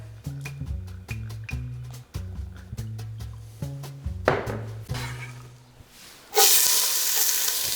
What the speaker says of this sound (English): Get that pan hot. All right, we have some olive oil there.